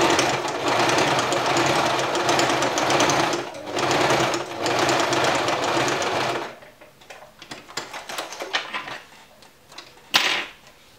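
A sewing machine running a topstitch a few millimetres from the fabric edge on the right side, a steady close whirring stitch rhythm in two long bursts, then quieter handling clicks and rustles as it stops.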